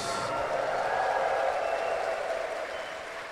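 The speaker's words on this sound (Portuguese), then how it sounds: "Pode dar uma salva de palmas a Jesus." A congregation at a Catholic Mass claps in a dense, even wash that swells slightly and then tapers, heard at a moderate distance in a reverberant space.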